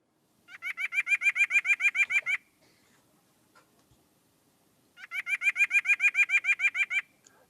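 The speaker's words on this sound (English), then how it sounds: "White-breasted nuthatch." A white-breasted nuthatch gives two rapid runs of repeated nasal calls, each burst about two seconds long, clear and fairly close against a quiet background.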